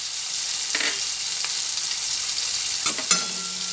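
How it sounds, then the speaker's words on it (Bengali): Masala frying in a pan while being stirred, a constant close hiss broken near the end by a few louder scrapes of the spoon. "ভালোভাবে নাড়াচাড়া করে মশলাটা ভেজে নিচ্ছি"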